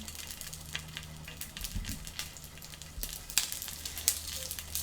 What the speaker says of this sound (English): this should be appropriately hot now to cook the buns